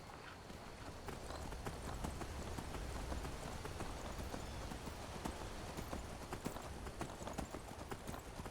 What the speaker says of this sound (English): Alright, where'd my horse go?